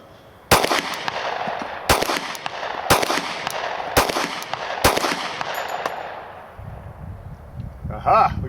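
A Glock 36 pistol fires full metal jacket rounds outdoors, five loud sharp shots spaced about a second apart, each followed by a ringing echo that fades. A faint voice follows the last shot.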